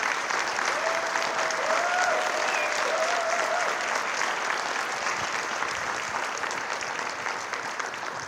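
An audience at a West Covina city State of the City and employee recognition event gives sustained, dense applause for a man who survived a cardiac arrest, a broad steady roar of clapping with faint whistles and cheers early on, slowly easing toward the end.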